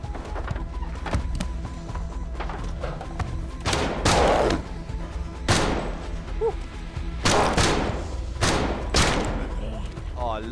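Assault rifle fire in a VR shooter game, heard as loud, punchy shots and bursts scattered every second or two, with a person talking over them.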